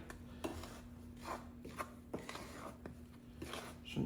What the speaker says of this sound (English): Now we need to mix this in thoroughly.